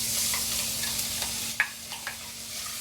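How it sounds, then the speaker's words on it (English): Ham fries in heated oil in a firehouse kitchen, a steady close sizzling hiss with a few soft clicks of stirring. "Now that our oil is heated up, we're going to add our ham."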